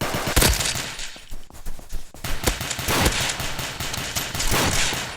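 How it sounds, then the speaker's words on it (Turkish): Dense, rapid gunfire crackles nonstop, bursts of automatic shots overlapping with sharper single blasts, loud and chaotic throughout. "silah sesleri şuradan geliyor"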